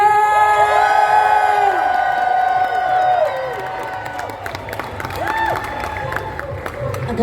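A concert crowd cheers, whoops and applauds for a singer at the Wall of Sound. A loud burst at first fades into scattered shouts and claps.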